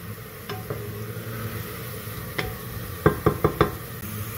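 Onions frying golden in a handi pot for chicken korma make a soft, continuous sizzle, broken by scattered knocks and then a quick run of four spoon clanks against the pot.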